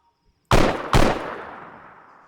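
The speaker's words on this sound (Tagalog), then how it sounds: "Ito, dalawa. Dalawa putok." Two sharp rifle shots in Arma 3, loud and close together about half a second apart, each a hard crack followed by a long echoing tail fading into quiet.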